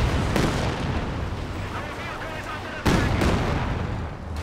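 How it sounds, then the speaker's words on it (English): Creeping artillery barrage in the video game Company of Heroes 2, a loud continuous roar of blasts and rumbling with two sharp booming impacts, dense and close, with a voice faintly under it. "Seems like maybe he's going for the creeping barrage here."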